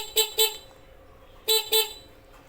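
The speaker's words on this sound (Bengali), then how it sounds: "ফাইনালি এখন এই হর্ন লাগানো ডান" A newly fitted Ronflent horn on a motorcycle sounds two quick double honks, bright and close, separated by about a second of quiet garage background.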